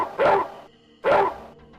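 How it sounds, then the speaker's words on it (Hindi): Two loud, close dog barks about three-quarters of a second apart, standing alone in a cartoon story for children. "कुत्ता भी आगे बढ़कर काटने को तैयार हो जाता।"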